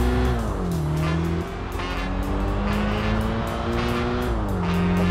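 Race cars launch from the start in the video game Tokyo Xtreme Racer Drift 2, engines roaring and revving loudly and close, pitch climbing and dropping through gear changes.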